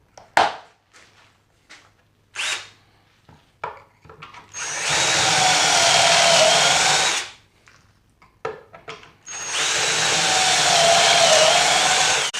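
A power drill with a hot drill bit bores into wood while building a bookshelf, with short bursts of whirring and knocking followed by two sustained high-pitched drilling runs of several seconds each, loud and close.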